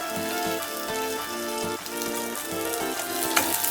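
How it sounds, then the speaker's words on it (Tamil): Ground spice paste for milagu kuzhambu, a Tamil pepper curry, sizzles steadily in sesame oil, a dense, close crackle with soft rhythmic stirring thuds underneath and no voices. "இது வேகட்டும் இது இந்த எண்ணெயிலேயே கொஞ்சம் வேகணும் இது நல்லெண்ணெயில் தான் செய்யணும்"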